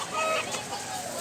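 Gamecock bullstag rooster of about one year clucking close by in short, slightly harsh bursts, with faint background noise.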